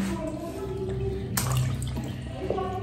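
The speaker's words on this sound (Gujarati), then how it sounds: "આ પ્લાઝોને ચોખ્ખા પાણીમાં નીચોવી લેવાનું છે" Palazzo pants being wrung out by hand in a basin of clean rinse water, with steady sloshing, splashing and trickling close by and no voices.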